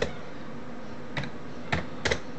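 A few sparse computer keyboard keystrokes as a virus name is typed, three or four faint separate clicks over a quiet room hum.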